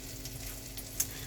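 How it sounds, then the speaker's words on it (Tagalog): Tortang talong, an eggplant fritter, fries in a pan with a soft, steady sizzle and crackle, one small pop near the end, quiet and close with no one talking. "nalutuin ang ating torta"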